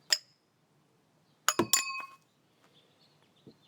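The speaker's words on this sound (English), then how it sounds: "I will remove the oil filter wrench, which kind of sometimes tends to get stuck. So I'm just going to tap this out of it here." Tools tap on a stuck oil filter wrench fitted to the oil filter of a 1997 Saturn car: one sharp metallic click, a pause, then a quick cluster of three or four ringing knocks close by, with no talking.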